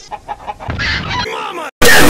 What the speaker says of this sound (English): all we have is this hen